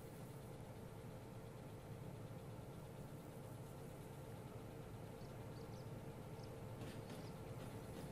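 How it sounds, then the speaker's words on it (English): A little train in the Derail Valley video game rolls in slowly at about 35 km/h, a faint, steady low rumble with an idling engine hum and occasional light clanks, with no talking. "That's a pretty little train."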